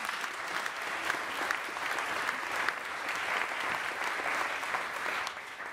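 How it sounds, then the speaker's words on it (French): An audience at a French talk on humour applauds steadily throughout, a dense and even wash of clapping from a large room with no pauses. "Vous pouvez l'applaudir aussi."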